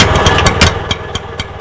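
An auto-rickshaw engine fitted into a car body runs close and loud, a rough mid-pitched putter with sharp periodic knocks and rattles over a steady idle.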